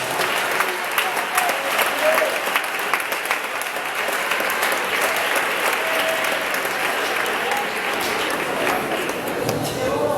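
A congregation claps during a Pentecostal church service, sustained loud applause filling the room for about ten seconds with dense, even clapping throughout.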